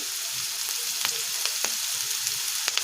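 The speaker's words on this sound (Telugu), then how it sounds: "ఉల్లిపాయ ముక్కలు వేసుకొని ఫ్రై చేసుకోవాలి" Onion pieces frying in a pan with a continuous bright sizzle, broken by several crisp pops and scrapes of stirring.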